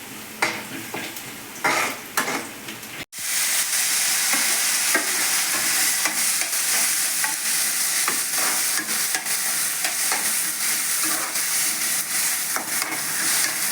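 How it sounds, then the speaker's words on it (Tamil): Onions and tomato sauté in a pan while being stirred, a steady loud sizzle and hiss running throughout after a brief clatter of stirring at the start, with no one speaking. "வெங்காயம் நல்லா வதங்கினதும் தக்காளி போட்டுடலாம்."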